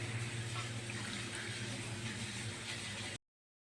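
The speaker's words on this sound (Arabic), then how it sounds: "بعد ما حطينا الميه اللي هي هتكفي الرز بتاعنا" Water is ladled into a pot of rice for a baked red rice tagine, a steady, close splashing hiss lasting about three seconds over a low, constant hum, then stopping abruptly, with no voices.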